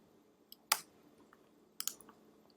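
Computer keyboard typing, a few separate faint key clicks followed by a quick double tap, quiet and close with no talk.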